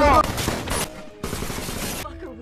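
Bursts of automatic gunfire in a tense armed standoff scene from the film Sicario, loud rattling volleys broken by a short gap, with a faint voice at the end.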